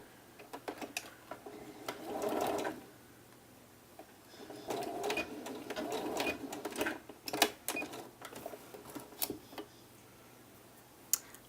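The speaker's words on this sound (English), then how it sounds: "If you're not doing the elasticated puff sleeve, just sew right the way around." A sewing machine stitches around a blouse sleeve in short bursts of rapid mechanical ticking, separated by pauses, with sharp clicks and taps throughout; no one speaks.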